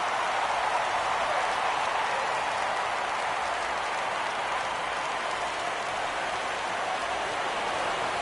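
Dense, steady crowd roar from a baseball stadium in MLB The Show 17, a broad wash of cheering and murmur holding level throughout with no distinct voices standing out.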